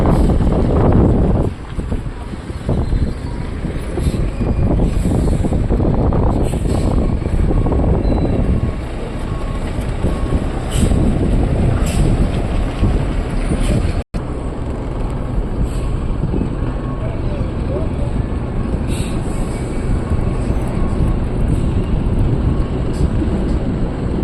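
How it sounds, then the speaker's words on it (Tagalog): Strong wind buffets the microphone in a steady, loud roar at a RoRo ship loading ramp, with gusts rising and falling throughout. "Medyo malakas yung hangin."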